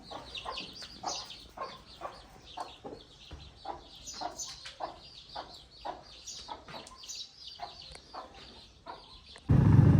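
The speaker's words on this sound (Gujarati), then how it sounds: "કુકડાની બધા પણ છૂટા છે, બચ્ચા પણ કુકડાના બધા, બાકી આપણા બધા હોર્સ તાજન, દેવાંગી, શિવાંગી" Roosters and chicks roaming loose on a farm, with repeated clucks and short calls from several birds, close and fairly clear against a quiet background, ending in a sudden loud rustle.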